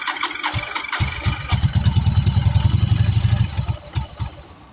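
A 1996 Yamaha Virago 1100 motorcycle warming up on choke, its engine catching after a few cranks, then running in a loud, close, uneven rapid chug that sputters and fades toward the end.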